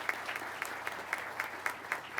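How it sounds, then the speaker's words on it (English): Scattered applause for instructor pilots at an undergraduate pilot training graduation ceremony, a moderate patter of clapping with a few sharper individual claps, filling the room without speech. "So to all our instructor pilots, a round of applause."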